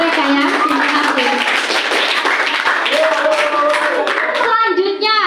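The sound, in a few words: classroom applause, hands clapping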